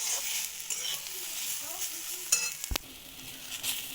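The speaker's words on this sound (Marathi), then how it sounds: "खोबऱ्याला ब्राऊन कलर येईपर्यंत हे परतून घ्यायचं" Grated coconut stir-fried with softened tomato in a pan, a soft sizzle under scraping spatula strokes, with a sharp knock of the utensil against the pan near the end.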